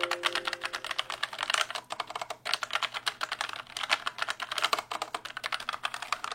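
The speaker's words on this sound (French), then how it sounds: "le clavier mécanique fait vraiment du bruit comparé à la MX Master" Rapid typing on a Logitech MX Mechanical keyboard, placed close by at about 15 cm, giving a dense, steady run of crisp mechanical key clicks with brief pauses and no voices.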